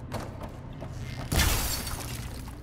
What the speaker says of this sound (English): Shoot the glass.